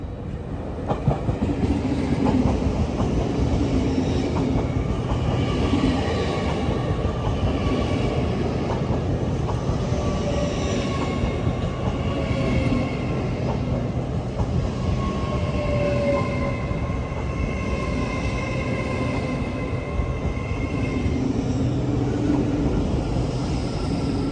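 An Azuma, class 801 unit 801 212, running from London King's Cross to Edinburgh Waverley through York station on the East Coast Main Line gives a loud, steady, close rumble with a faint tonal whine that holds for the whole stretch.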